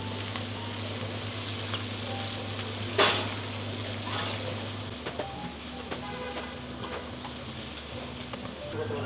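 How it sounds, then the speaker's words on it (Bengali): Cumin, green chilies and onion fry in a pan with a steady hissing sizzle, broken by the scrape of a utensil stirring them. The sizzle sounds close and continuous. "প্রথমে কিন্তু আপনার জিরা কাঁচামরিচ এবং পেঁয়াজ এ তিনটা একটু ভেজে নিতে হবে"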